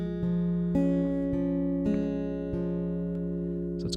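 Acoustic guitar plays a melody alone, a short run of plucked and hammered-on notes ringing over sustained open strings, with several clear note attacks across a few seconds.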